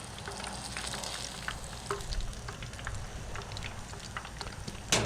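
Bluegill and crappie fillets frying golden brown in a pan, a dense continuous crackling sizzle with scattered pops, close and steady throughout.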